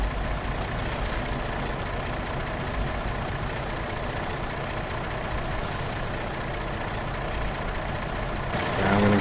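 A military vehicle engine in Arma 3 idles with a steady, rough, low diesel rumble, close and continuous, swelling slightly louder at the very end.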